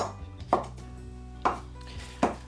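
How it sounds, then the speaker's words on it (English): A knife chops through a vegetable on a cutting board, three or four distinct sharp thuds spaced about a second apart against a quiet background. "I'll just cut it in half"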